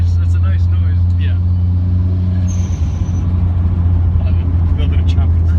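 Nissan Silvia S14a turbo with a screamer pipe dumping boost, heard from inside the car as a loud, steady engine drone with a brief hissing whoosh midway, continuous throughout.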